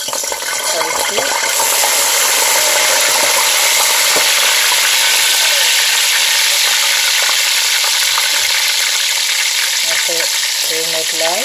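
Seasonings hit hot oil in a pot for Haitian rice and fry with a loud, steady sizzle and crackle throughout, close up, with some stirring clatter.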